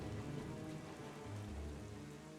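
Steady rain in a video game during Endless Night pours down continuously, a dense, even hiss of drops hitting surfaces with no pauses or voices.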